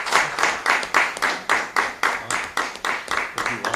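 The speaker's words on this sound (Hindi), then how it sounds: "अपन यहाँ तो ताली बजाते हुए देखे" Rhythmic group clapping, a crowd of people beating hands together in an even, steady pulse of about three claps per second, close and clear with no talk over it.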